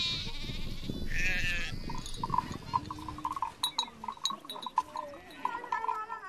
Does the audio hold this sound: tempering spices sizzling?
no